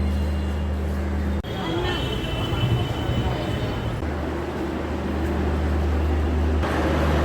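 Busy ambience at Thiruvananthapuram Central railway station: a steady low engine hum and hiss with crowd murmur and distant voices, continuous throughout.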